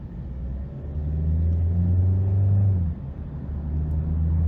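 A 2023 Hyundai Sonata Hybrid accelerating in sport mode gives a steady low drone with a rising engine tone that swells, dips briefly, then picks up again under road rumble, heard from inside the cabin.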